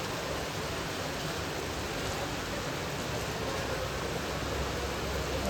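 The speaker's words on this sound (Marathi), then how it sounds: "एवढं पाऊस आहे." Heavy rain pouring during a two-day temple festival, a dense, steady roar of downpour that stays constant and fairly loud throughout, with no voices.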